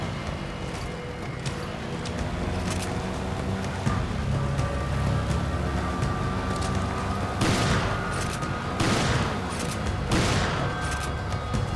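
Gunfire from the video game Resident Evil 5 rings out in several bursts of shotgun blasts over a busy, noisy game soundscape of ambient rumble and effects.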